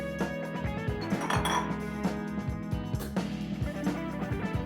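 Metal utensil clinking and scraping against a pan while peppers, onions and garlic saute for Cajun crawfish mac and cheese, a steady run of close, repeated clanks with no talk.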